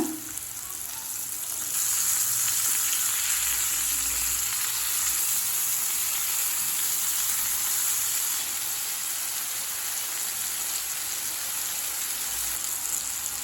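Chicken tikka pieces frying on a medium flame, a continuous dense hiss of sizzling oil that swells after a quiet start and holds steady throughout.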